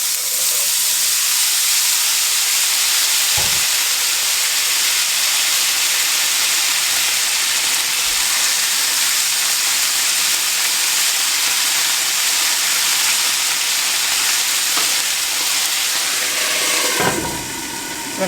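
Drained potatoes sizzle and hiss loudly in a pan of hot bacon grease, a dense, continuous frying crackle lasting throughout, with a few faint clanks near the start and end.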